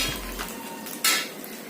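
Utensil scraping and clinking in a pan while stirring a roasted potato chutney, a few quiet metallic taps and scrapes over a faint background.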